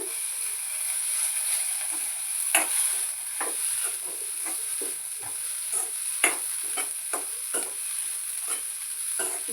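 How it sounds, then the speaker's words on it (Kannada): Poppy seeds dry-roasting in a pan over a medium flame, stirred with a steady soft hiss and a run of light scraping strokes against the metal, close and moderately loud, no talking. "ಮೀಡಿಯಮ್ ಫ್ಲೇಮ್ ಮೇಲೆ ಇಟ್ಕೊಂಡು ಹುರ್ಕೊಂಡ್ರೆ ಸ್ವಲ್ಪ ಎಲ್ಲ ಬಿ ಚಂದ ಫ್ರೈ ಆಯ್ತವಲ್ಲ ಅದ್ರ ಸಲುವಾಗಿ ಸ್ಲೋ ಇಟ್ಕೊಂಡು ಹುರ್ಕೊಳತ್ತೀನಿ"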